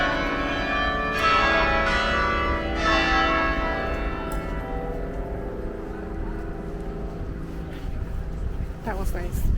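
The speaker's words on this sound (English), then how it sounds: "Church bells ringing." Church bells in Belgrade, Serbia ring out with long, overlapping tones that slowly fade, and a voice is heard briefly.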